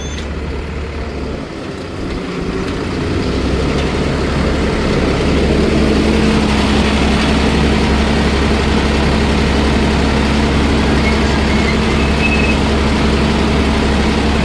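A Swaraj 969 FE 4WD CRDi tractor pulling a cultivator in the field, its engine giving a loud, steady low drone with a constant hum that settles under load, with no talk.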